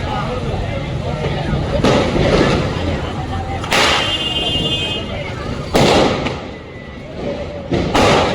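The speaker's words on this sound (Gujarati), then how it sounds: "જો ફટાકડા ફૂટી રહ્યા છે" Diwali firecrackers burst in a series of sharp, loud bangs at irregular intervals against a noisy outdoor background, with voices audible between the blasts.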